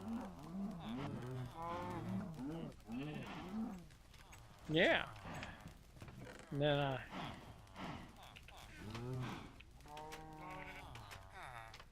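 Minecraft cows lowing inside a game slaughterhouse, several drawn-out moos rising and falling, some overlapping, while someone talks intermittently over them.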